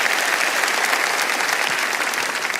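A church congregation applauds during a morning prayer service, a continuous, loud wash of many hands clapping throughout.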